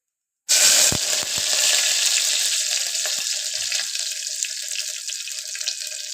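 Curry leaves hit hot oil with a sudden loud burst of sizzling that spits and crackles, then settles into a steady hissing fry, close up with no talking.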